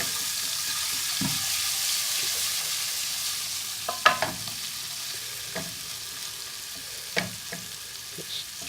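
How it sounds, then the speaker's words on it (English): A soft, steady sizzle of ginger garlic paste in a pan with a few scattered clicks and scrapes of stirring, fairly quiet and without speech. "Just sizzle that off for about 40 seconds."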